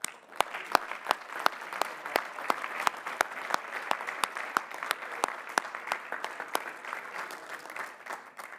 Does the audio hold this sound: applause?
yes